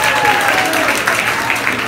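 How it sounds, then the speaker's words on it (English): Comedy club audience at a Cape Town show breaks into brief, steady applause with crowd noise, while a voice talks over the clapping. "You guys just clapped at air"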